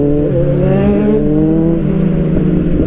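Loud car engine with a modified muffler revving up and down in traffic, a steady close harmonic drone with rising and falling pitch sweeps throughout, no voices.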